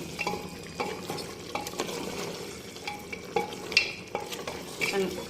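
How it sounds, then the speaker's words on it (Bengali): Mutton being sautéed in a pan, with a continuous sizzle and frequent spoon scrapes and clinks as the meat is turned over and over. "গোস্তটাকে খুব ভালো করে আমরা কষিয়ে নিয়েছি।"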